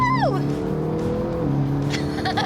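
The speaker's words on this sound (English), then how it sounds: "It's a 4-liter twin turbo V8 engine." McLaren GT with a 4-liter twin-turbo V8 driving, engine note sweeping down as it shifts then holding a steady drone, with a voice speaking over it near the end.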